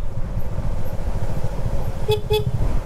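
Two short car horn toots sound near the end, close and bright, over a steady low vehicle engine rumble on a landslide-hit road after Typhoon Kristine.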